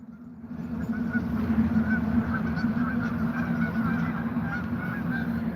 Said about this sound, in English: I'm on the geese side. I'm glad they got away from the dog.